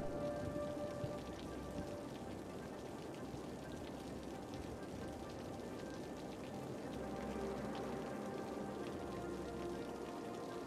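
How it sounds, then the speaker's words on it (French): Steady thunderstorm rain from the city-building game Cities: Skylines, a dense continuous patter of drops on surfaces with faint rumbling beneath, heard alone without talk for the whole stretch. "Et on a un orage."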